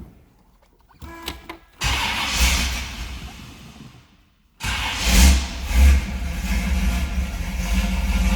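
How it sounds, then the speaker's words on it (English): A 1968 Pontiac Firebird convertible engine cranks briefly, then catches and runs with a steady low rumble, drops to a pause, and restarts into a stronger idle with a couple of revs. "Let's go ahead and fire this up so you can hear it run."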